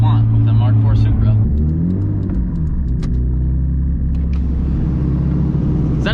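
A 900-wheel-horsepower MK4 Toyota Supra with a 2JZ engine and big turbo revs up close and loud, its deep engine drone climbing and falling in pitch while voices talk over it.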